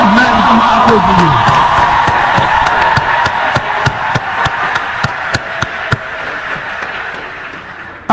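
A crowd at a graduation ceremony cheers and whoops at first, then keeps up a run of sharp, fairly regular claps that fade slightly toward the end, with voices mixed in.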